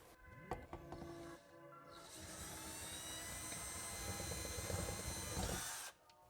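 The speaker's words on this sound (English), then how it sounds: "we're going to drill out this middle hole" A power drill winds up and grinds steadily into material for several seconds, close and loud, then stops abruptly.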